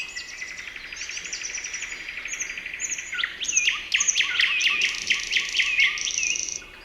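Small birds chirp and twitter in a forest, a busy overlapping chorus of quick high calls that grows denser and louder in the second half, with no voices.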